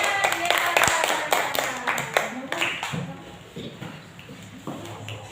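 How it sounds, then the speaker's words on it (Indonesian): Students clapping in a classroom during a religious studies lesson, a burst of sharp individual claps that thins out and fades, with voices chattering underneath. "Beri tepuk tangan."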